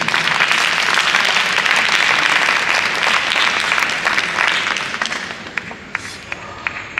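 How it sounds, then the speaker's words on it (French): An audience at a Téléthon 2023 science talk breaks into loud, sustained applause that continues for several seconds before thinning into scattered individual claps as it dies away. "je vous demande de les applaudir."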